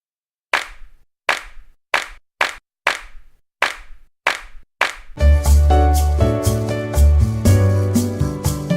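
Eight separate layered hand clap samples hit one by one with short gaps and an uneven rhythm, each dry and punchy. A full music mix then takes over with heavy low end and sustained chords.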